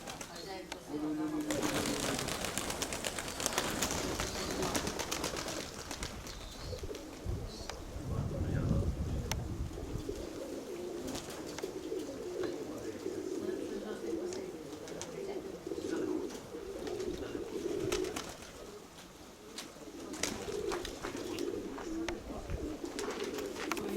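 Pigeons coo softly and repeatedly in a busy outdoor setting, with people talking nearby over a constant background rumble.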